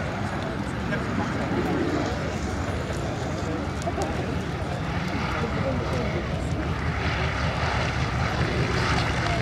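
Propeller aircraft such as a Skyraider or OV-10 Bronco passing overhead at an air show, a continuous broad engine drone with crowd noise and a voice talking underneath.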